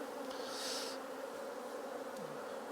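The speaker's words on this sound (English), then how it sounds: "Lots of bees, lots and lots of bees" Honey bees hum in a dense, steady drone from an opened hive colony during an inspection, faint and continuous with a closer bee briefly passing by.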